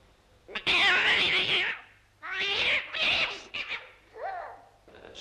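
A voice imitates a cat, giving several drawn-out, wavering meows, each loud and close, with short pauses between them.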